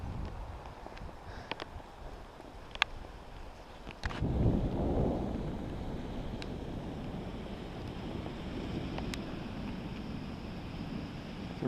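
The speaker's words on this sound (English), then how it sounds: "You can really hear that thunder echo in the mountains." A deep, rolling rumble of distant thunder swells up and lingers, echoing broadly through the Cordillera Blanca mountains of Peru over steady wind noise, with a few faint clicks earlier.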